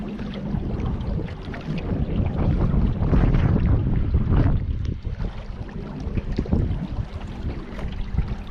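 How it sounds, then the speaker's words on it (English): Wind buffets the microphone on a boat ride near the Hoover Dam, a loud, continuous low rumble with gusty swells and water and engine noise mixed underneath. "See, now we got the wind to our backs"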